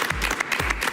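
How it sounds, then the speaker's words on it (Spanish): A studio audience on a television talk show applauds to welcome a guest, a dense burst of close, loud clapping filling the whole short moment. "la recibo con un fuerte aplauso"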